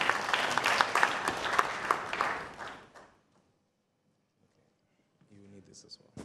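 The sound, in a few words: applause welcoming Engineer Ludwig Hesse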